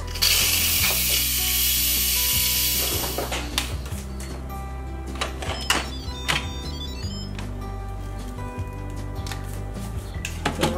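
An Instant Pot finishing a batch of white rice lets off steam through a quick pressure release: a loud, steady hiss for about three seconds, then fading sputters, clicks and mechanical clatter over a low background hum.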